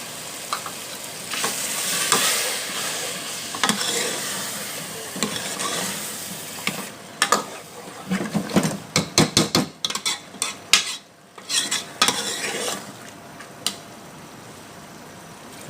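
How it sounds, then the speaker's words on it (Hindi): Yakhni broth poured into fried masala for a mixed mash and chana dal dish, then stirred: steady loud sizzling and frying with scraping spoon strokes and clinks against the pot, busier bursts of stirring later on. "इसमें डालेंगे हम यखनी, अच्छे तरीके से भून चुकी है, पहले थोड़ी सी डालेंगे।"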